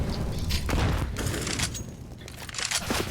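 Several quick bursts of gunfire crack through a Counter-Strike match, arriving in uneven clusters at moderate volume, with faint game ambience between the shots.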